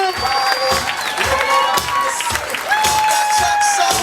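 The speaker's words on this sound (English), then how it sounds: "Keep clapping, keep clapping." Wedding guests clapping and cheering loudly for the newlyweds at a reception, with whoops and shouts over sustained applause and an announcer's voice threaded through.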